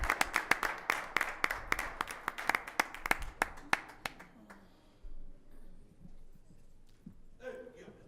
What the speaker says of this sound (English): let's have a round of applause for our newly appointed First Ward City Councilman, Leon Alameen